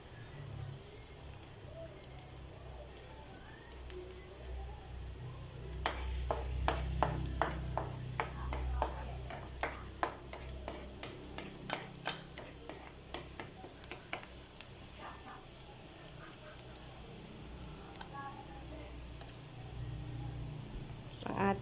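Garlic dropped into a hot pan to start sautéing for adobong kangkong crackles in a burst of short, sharp sizzling pops that build then thin out, over a steady low background hum.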